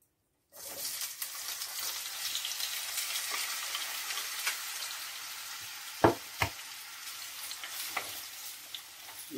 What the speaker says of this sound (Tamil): முதல் வந்து தக்காளி பழத்தை பொரிக்க போகிறேன்.